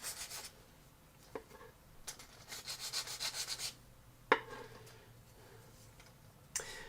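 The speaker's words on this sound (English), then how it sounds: "And a little filing on the side here." A file rasps against the side of a plastic model kit part in short, quiet bursts of scraping strokes, separated by pauses and a few light ticks.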